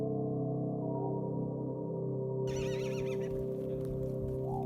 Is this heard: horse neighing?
yes